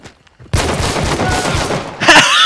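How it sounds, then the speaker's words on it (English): Gunfire sounds as a sudden dense burst of rapid shots after a quiet moment, then continues loudly for about two seconds before a sharper final blast. "Where are they shooting you from?"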